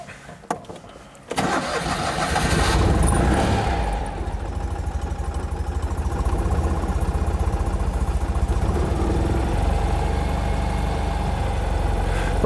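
A Citroën 2CV's small engine cranks briefly and catches, then settles into a steady, close idle as it warms up, droning evenly with no talk.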